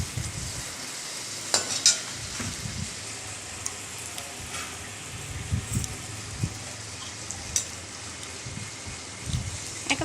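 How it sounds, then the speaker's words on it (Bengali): Food frying in a pan gives a continuous sizzling hiss broken by a few spatula scrapes and clinks, close to the listener and with no talking over it. "একেবারে ভেজে নাও।"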